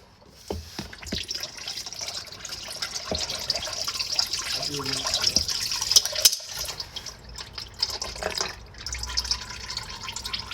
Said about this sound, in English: We're letting the oil filter drain real quick.